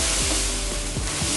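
Mashed papaya fries in a pan after a teaspoon of sugar is stirred in, giving a loud, steady, close sizzle with faint stirring scrapes underneath.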